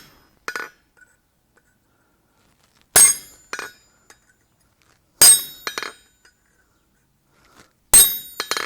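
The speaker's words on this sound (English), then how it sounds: "So first we're going to use the elongated punch and put a divot on each corner" Hammer blows on an elongated punch set into a hot forged nail head at a blacksmith's anvil, sharp bright metallic clinks in spaced pairs and triplets, loud and close, with silence between.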